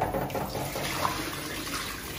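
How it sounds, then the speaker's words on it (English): Rice being washed under running water while preparing Jamaican brown stew chicken: a continuous close splashing and flowing of water from a tap, steady with no talking. "Wash your rice."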